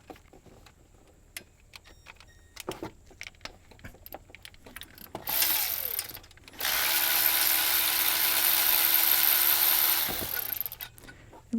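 Tool work on an alternator bolt of a GM OBS Chevy/GMC truck with a Vortec V8: scattered sharp clicks and taps, then two loud sustained buzzing runs of a power tool, close up.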